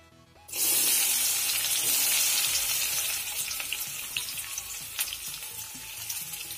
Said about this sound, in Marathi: आता तेल खूप तापलंय, आता त्यामध्ये आपण कांदा घालूया।